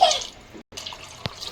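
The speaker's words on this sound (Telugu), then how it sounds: "ఇప్పుడైతే ఎసరికి సరిపోయేంత వాటర్ అయితే వేసుకుంటున్నాము." Water pours into a pan of fried goat head curry, giving a splashy, hissing gush that breaks off briefly and resumes with a single sharper splash.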